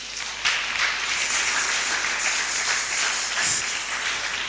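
A church congregation applauds during a sermon, a dense, steady patter of many hands clapping at moderate volume for several seconds.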